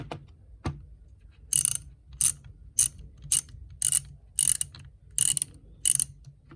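A cheap socket-set ratchet clicks in short, sharp bursts, roughly eight separate rasping clusters at an uneven pace, close and crisp against a quiet background.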